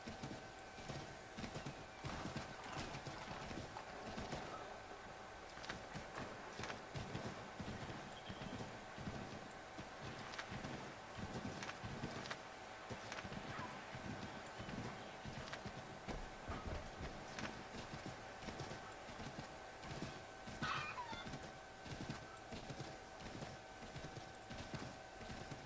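Horse hooves clip-clop in a steady, continuous rhythm in the video game Assassin's Creed III, set against a busy, even background of game ambience that carries on throughout.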